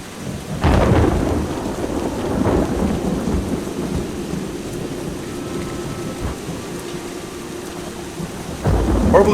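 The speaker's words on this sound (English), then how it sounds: "So go ahead and continue to rain." Rain pours steadily in the video game Eschalon: Book III while deep thunder rumbles loud at the start and rolls in again near the end, with no voices heard.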